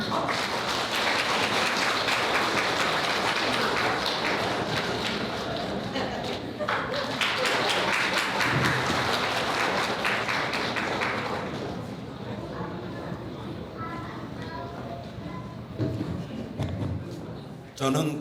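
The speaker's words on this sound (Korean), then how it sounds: "여러분 다시 한번 큰 박수 부탁드립니다" Guests at a wedding ceremony in a Myeongdong hall break into sustained, dense applause, then it thins out while a voice speaks over the room.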